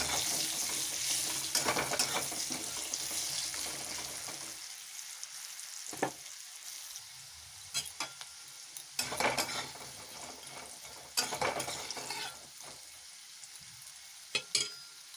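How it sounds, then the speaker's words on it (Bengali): Potatoes sprinkled with salt and turmeric fry in oil with a continuous crackling sizzle, broken by repeated bursts of spatula stirring and metal-on-pan scraping through the whole stretch; no one speaks. "আলু কটা অল্প ভেজে নিই লাল লাল করে"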